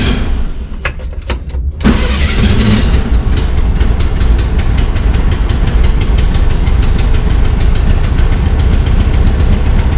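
A 1965 VW Bus engine idling on the choke while it warms up, a steady loud rough running drone after a few brief catches and a start in the first two seconds, with no talking.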